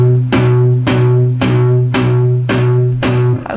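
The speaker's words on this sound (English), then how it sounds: "find a happy medium where it sounds like this" Palm-muted electric guitar strings picked near the bridge, six evenly spaced chugging hits that ring briefly with a tight, damped tone, close and loud with no talking.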